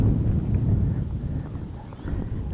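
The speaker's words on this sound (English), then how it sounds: "It's quite windy." Steady wind buffeting outdoors in a small Minnesota town, a constant low rumble that is fairly loud and close, with no other clear sounds.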